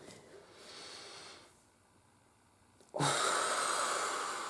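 Deep, full breaths drawn in and let out, first a slow hissing exhale, then a quieter pause, then a loud rushing breath close to the microphone, with no talking.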